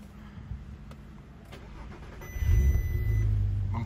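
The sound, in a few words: Audi TT 3.2 VR6 Stage 1 engine starting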